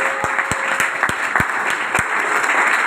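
A seminar audience at an RCM business gathering claps loudly in a steady, synchronized rhythm, roughly three beats per second, close and full throughout.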